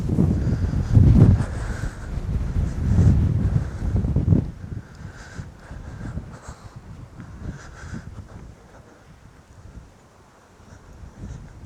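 Wind blowing across a riverbank on the Ancholme, strong gusty buffeting on the microphone for the first few seconds, then dropping to a lighter, fluctuating rush that fades lower toward the end.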